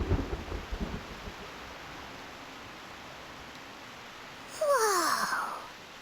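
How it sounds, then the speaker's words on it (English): Heavy rain hisses steadily in the Reverse:1999 video game, with a low rumble of thunder at the start, then a bright sweeping tonal effect rises over the downpour near the end. "What a heavy rain outside!"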